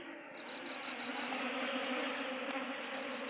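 Honeybees at a hive during a robbing fight, a dense continuous buzzing drone from many insects, steady and close with a faint higher whine over it and no voices.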